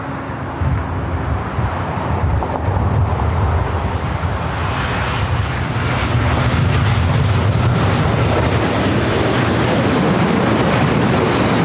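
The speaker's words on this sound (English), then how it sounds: "How is that Japan Dreamliner coming up from Tokyo, Narita?" A Japan Airlines Boeing Dreamliner arriving at LAX from Tokyo Narita roars loudly and close, its jet engine noise building steadily into a broad, sustained rush.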